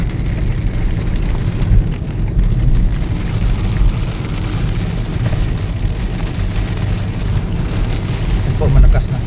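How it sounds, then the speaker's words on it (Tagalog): Continuous heavy downpour with a deep, rumbling wash, steady and close throughout, on the nautical highway through Dingle, Iloilo toward Capiz. "papasok tayo doon sa malakas yatang ulan"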